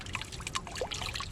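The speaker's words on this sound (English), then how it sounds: "Actually just going to get some water out of my fountain to pour in there, 1 cup." Water from a fountain pours into a Starbar fly trap, a soft, steady trickle and splash at close range, fairly quiet and without talk.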